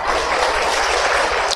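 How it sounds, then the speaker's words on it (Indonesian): A church congregation at a Toraja church service breaks into steady, dense clapping, loud and close, with no voices over it. "Tepuk tangan dulu ke gereja Toraja."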